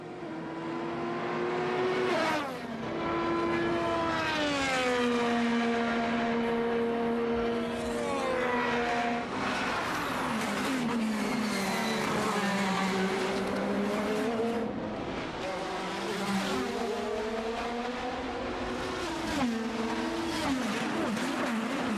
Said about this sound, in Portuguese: E como ronca alto o motor, né?